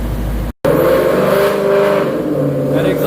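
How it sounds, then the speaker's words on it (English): A 2018 GT with a ported manifold and custom tune revs hard on a dyno, its loud exhaust roaring with a brief cut near the start, then a sustained engine drone close by. "That exhaust is so loud."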